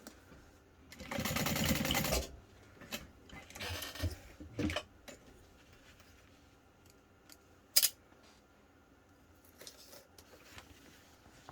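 A sewing machine bastes backpack fabric in a short close burst of rapid stitching, followed by a few softer stitch runs, small clicks and handling of the fabric in a quiet room.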